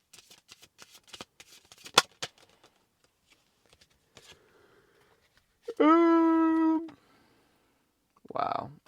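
Moonology oracle cards shuffled by hand, a burst of rapid close riffling clicks with a sharp snap, followed by a pause, a voiced tone and a brief murmur at the end.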